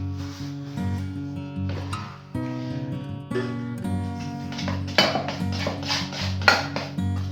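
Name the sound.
mixing batter in a bowl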